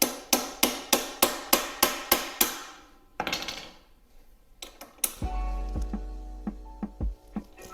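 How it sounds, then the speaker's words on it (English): Metal hammer strikes a brake caliper on a Segway X260 electric dirt bike, nine sharp evenly spaced blows up close, then a pause and a few scattered knocks and clanks. "So you definitely got to hammer this one down."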